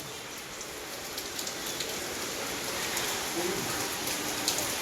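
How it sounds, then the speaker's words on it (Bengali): Heavy rain pouring down during a thunderstorm, a dense, even hiss of drops on surfaces that fills the whole stretch at moderate level with no let-up. "এখন প্রচণ্ড বৃষ্টি হচ্ছে আমাদের এখানে"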